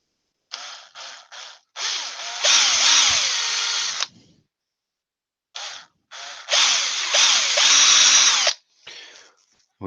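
Power drill biting into a wooden toy farm animal from a woodturning project, several short loud bursts building into sustained whining runs, repeated twice with a pause between, close and prominent.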